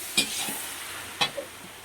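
Masala for Malabar spinach frying in a pan with ginger, cumin, tomato, chili, turmeric, onion and panch phoron: a steady soft sizzle with two sharp utensil clicks and a brief stir, close and quiet.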